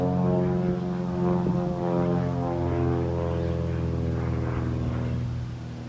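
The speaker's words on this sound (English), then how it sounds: "Airplanes are always around." A propeller airplane drones overhead near an airport, a loud, steady low harmonic hum that holds throughout and eases slightly toward the end, with no voices.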